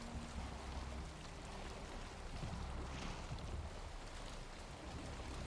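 Wooden sailboat drifting slowly without wind in the Valheim video game, with a steady wash of water and soft creaking under a constant low rumble, no voices.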